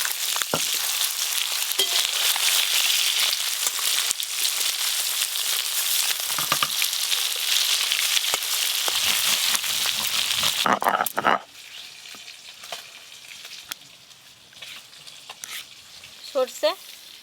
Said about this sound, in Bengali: এই ট্যাংরা মাছগুলো ভাজতে খুব বেশি সময় লাগে না, ভাজা হয়ে গেল তুলে নেব।